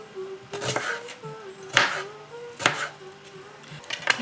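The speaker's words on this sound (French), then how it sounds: "Bon, on va couper l'oignon." A knife chops onion on a board in a few sharp, separate strikes spaced about a second apart, close and clear over a faint steady hum.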